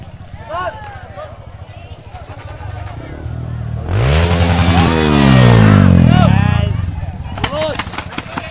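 Motorcycle engine revving hard while climbing a steep uphill track at an event in Sindurejo, Gedangan, Malang, building to a loud, rising roar mid-clip over background crowd noise and voices.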